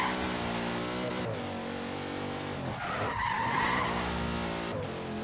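A Chrysler 300C SRT8 slides sideways in Forza Horizon 3, its engine droning steadily under a long, loud tire squeal that swells midway through the drift.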